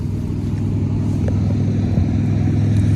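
A Boom Vader 125cc motorcycle, a Honda Grom clone, idles with a steady low engine rumble and rapid exhaust pulsing, close and loud throughout with no talk.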